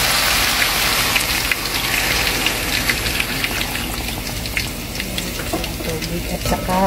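Water poured into a pot of rice in a home kitchen, a steady splashing, gushing stream that runs without a break, close and fairly loud.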